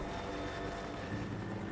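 Helicopter in the Rise of the Tomb Raider game, a close, loud, thudding rotor beat with a rapid regular chop over a low engine rumble, alone without speech.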